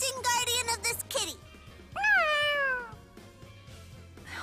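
A cat meowing in the video game Tales of Xillia 2, two drawn-out meows spaced apart over quiet game background, with brief voice acting around them.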